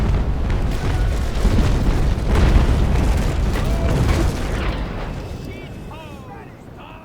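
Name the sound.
cannonball shots and impacts in Naval Action video game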